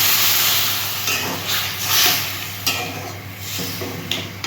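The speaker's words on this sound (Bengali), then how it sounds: "ভাজা ভাজা হয়ে গেছে, আমি এবার একটু জল দিচ্ছি।" Water poured into a pan of frying potatoes sets off a loud, steady sizzle and hiss, with occasional stirring clinks and scrapes as the spluttering slowly settles.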